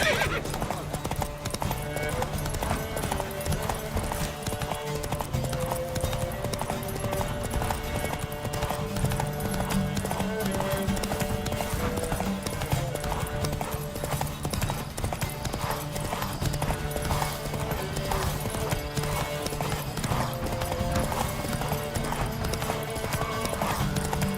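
Horses galloping hard during a race in The Witcher 3, with a rapid, continuous clip-clop of hooves and occasional whinnies under game music, while voices call out over the pounding.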